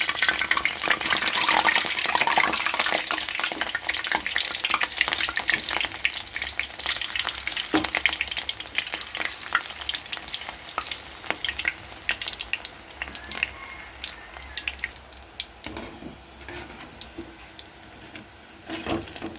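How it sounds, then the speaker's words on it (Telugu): Punugulu batter dropped into hot oil sizzles and bubbles continuously, loudest at the start and gradually settling, with occasional clicks of a utensil and no talk. "నూనె కాగింది, మనము చిన్న చిన్న పునుగుల్లాగా వేస్తున్నాను."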